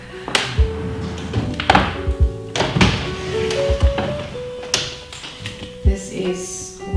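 Wooden thunks and taps as a desk drawer in a home study slides and knocks, several short bumps and rattles close by.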